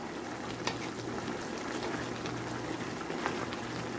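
Chicken stew bubbles in a pot while being stirred, giving a continuous simmering, sizzling wash with occasional soft clinks and scrapes from the spoon, moderately quiet with no talking.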